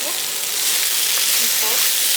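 Tomatoes fry in a hot pan during Filipino home cooking, giving a steady, dense sizzling hiss that stays loud and even throughout.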